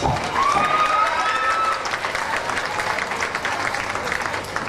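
At a county fair queen pageant, the audience applauds steadily, a dense wash of clapping with a few whoops early on, holding for several seconds.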